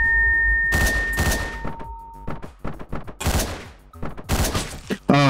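Gunshots in the top-down action game Hotline Miami, several loud cracks and bursts in quick irregular succession over a droning synth tone, with dense overlapping impacts.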